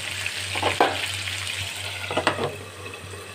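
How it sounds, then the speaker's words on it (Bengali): Fish wrapped in leaves sizzles and fries in a covered pan, a steady close crackle with a low hum beneath and a few sharper spits and pops. "মাছটা ভাজা হচ্ছে, ভেতরে সেদ্ধ হয়ে যাচ্ছে"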